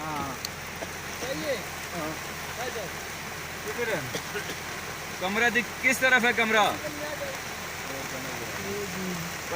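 Steady rain patters on a surface throughout, a constant hiss close by, while several people talk over it.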